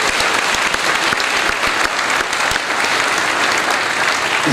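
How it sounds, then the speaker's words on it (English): A school audience at a county band concert breaks into a full, dense round of applause, loud and sustained with scattered individual claps standing out and no talk over it. "So let's give those folks a round of applause too."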